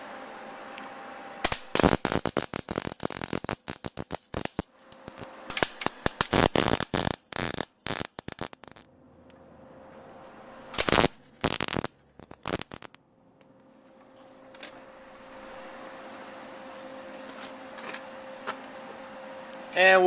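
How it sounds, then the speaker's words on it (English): Welding bolts onto a steel floor plate, with bursts of harsh crackling and sizzling arc noise in several separate runs between quiet pauses, against a faint steady hum. "The final step in this process is to weld these bolts up."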